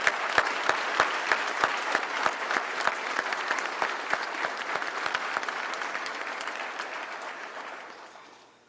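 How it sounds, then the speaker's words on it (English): A crowd at a fire department recruit class graduation ceremony applauds family and friends, with steady clapping and distinct sharp individual claps that gradually fade out toward the end. "if we could give a round of applause for all the family and friends that have supported us through this"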